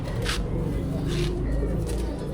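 Pigeons kept in a home loft coo in low, soft, continuous murmurs, with a few brief brighter rustling bursts over the top and faint background noise throughout.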